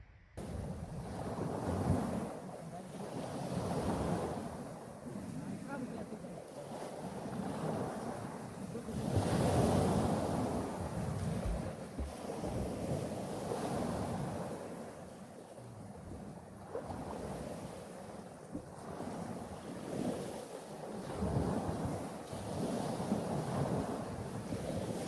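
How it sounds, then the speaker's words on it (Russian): Wind gusts steadily along the shore of Lake Baikal, a low rushing roar that rises and falls with lapping surf and no voices. "Сейчас ветер дунул, еще шишки попадали."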